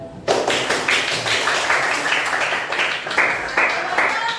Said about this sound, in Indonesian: Sebelum mulai, tepuk tangan dulu.